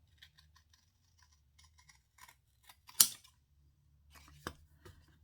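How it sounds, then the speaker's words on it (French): Scissors cut through thick cardboard while making a crayon box, a few quiet snips and crunches with one sharp cut standing out, close by and otherwise near silent. "je prends mes ciseaux et je vais couper"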